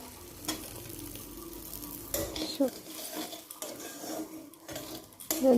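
Fried vegetables go into rice frying in a pan: soft sizzling under close scraping and clinking of a utensil against the pan, quiet and uneven, no talking.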